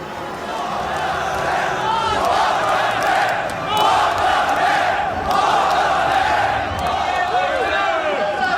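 A large crowd at a concert roars and shouts continuously, a dense, loud wall of cheering and chanting voices that swells and dips slightly over several seconds.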